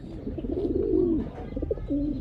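A racing pigeon coos nearby in soft, low, rolling phrases, a few throaty calls in quick succession.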